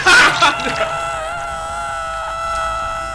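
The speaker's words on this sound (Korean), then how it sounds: "아 비명 소리 봐 겁나 쩔어" A loud, sustained scream from a character in the horror video game Dead by Daylight peaks at the start, then holds as a wavering, strained cry for about three seconds, layered over the game's ambient sound.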